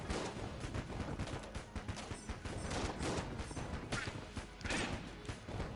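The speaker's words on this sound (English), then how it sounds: "This is a flame hand. You shoot fire out of your hand." Flame hand weapon firing fire in Enter the Gungeon, a dense continuous stream of crackling, bursting shots and impacts that stays loud and busy throughout with no pauses.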